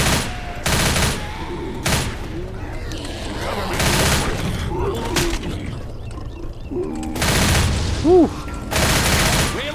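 Gunfire in Left 4 Dead while shooting zombies: several loud separate shot bursts spaced through the clip over game ambience, with a short whistling game sound near the end and a voice talking between shots.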